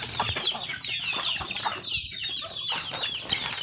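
Chickens cluck steadily at close range while being fed grated coconut, with busy overlapping calls and occasional wing flaps throughout.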